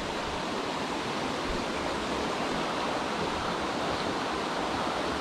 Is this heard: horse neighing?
no